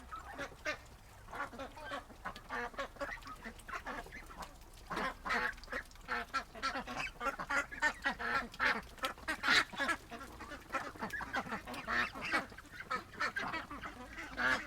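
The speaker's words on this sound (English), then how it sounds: "No, I didn't know I was surrounded by ducks." A flock of ducks gathered around a feeder, honking and quacking in busy overlapping bursts, close and continuous with no talk.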